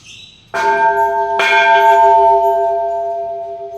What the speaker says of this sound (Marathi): बघा या घंटेचा आवाज